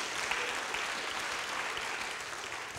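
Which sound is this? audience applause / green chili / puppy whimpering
audience applause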